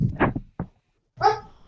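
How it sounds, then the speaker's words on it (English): A single dog, a pet, barks in a few short, close bursts with brief silent gaps between them, clear and alone. "That was my dog"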